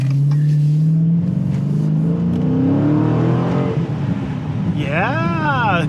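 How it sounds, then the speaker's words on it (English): A Dodge 392 Scat Pack 'Last Call' V8 revs hard and loud through a turn, its pitch climbing steadily before a quick rising-and-falling rev flurry at the end; a driver's voice comes in over it. "the engine note is good"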